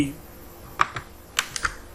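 A few sparse keystrokes tap on a computer keyboard while a search is typed into a browser, soft clicks in small clusters over a quiet room background.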